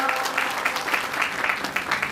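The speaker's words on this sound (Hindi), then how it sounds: "जोरदार तालियों के साथ स्वागत करवाना चाहूंगा" Steady applause from an audience at a skills training and honouring ceremony in Uttarakhand, a dense, continuous patter of many hands at even loudness throughout, with no talk over it.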